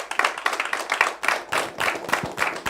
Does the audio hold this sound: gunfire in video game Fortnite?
no